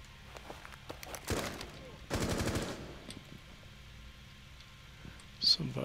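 Bursts of automatic gunfire ring out in Rainbow Six Siege on a building's ground floor: two dense rattling volleys in quick succession, loud and close, followed by quieter clicks and a brief sharp burst near the end.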